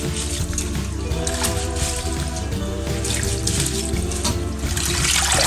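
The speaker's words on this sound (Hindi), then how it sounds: "ये तीसरी बार हम धो रहे हैं" Rice being washed for Lucknowi biryani, its third rinse: steady splashing and running water in a sink, close and continuous with bursts of sloshing as grains are swirled by hand.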